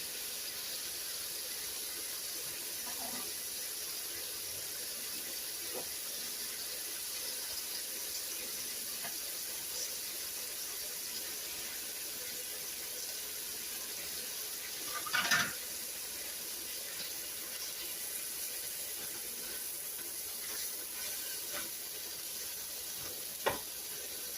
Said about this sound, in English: And we're going to brown that up. And I'm going to go ahead and add my onions in.